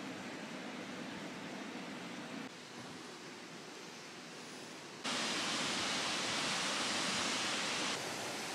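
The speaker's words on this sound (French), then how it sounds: "cette cascade qui se déverse dans ce bassin qui est vraiment large" A waterfall on Réunion pours into a wide pool, a steady, full broadband roar that holds throughout and grows noticeably louder partway through, with no talking.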